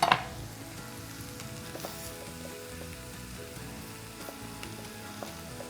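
Roux poured into sizzling vegetables for shrimp étouffée, giving a steady broadband frying sizzle with faint stirring scrapes, close and even throughout, no voices.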